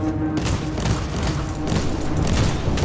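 Heavy weapon fire in the video game Warhammer 40,000: Inquisitor - Martyr, a loud, dense barrage of shots and blasts that keeps going for the whole stretch, with no speech.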